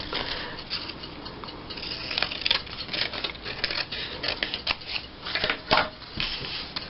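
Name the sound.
scissors cutting out a Christmas tree tag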